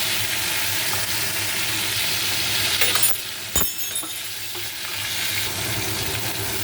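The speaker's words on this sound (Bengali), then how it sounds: "এবারে তেলের মধ্যে একটু কষিয়ে নিই" Ginger, cumin and chili paste sizzle steadily in hot oil in a pan, a continuous close frying hiss with a brief clink and stir near the middle.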